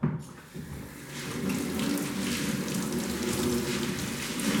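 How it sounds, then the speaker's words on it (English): A carbon filter bag for a lobster tank is rinsed under cold running water from a tap, giving a steady broadband splashing and hissing wash that holds level and close for the whole stretch. "rinse thoroughly under cold water"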